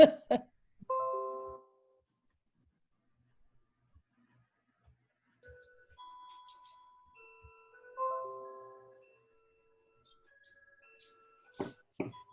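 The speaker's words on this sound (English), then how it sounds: "Somebody's chiming the hour. Oh, that's my clock." A household clock chimes the hour with a few spaced bell-like tones, soft and somewhat distant on a quiet video call, with brief voices at the start and end.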